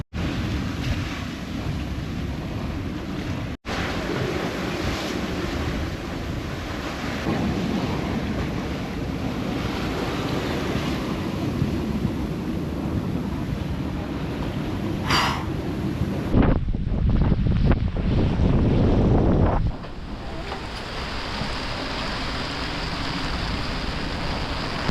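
Strong wind of about 20 knots gusting to 25 roars across a sailboat at sea, with waves crashing and sloshing continuously, loud and close, buffeting the microphone throughout and surging louder toward the end.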